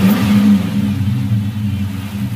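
A Dodge Magnum engine fitted with a cold air intake drones steadily while driving, with a deep, continuous low-pitched engine hum and a slight revving swell near the start, close and loud with no talk.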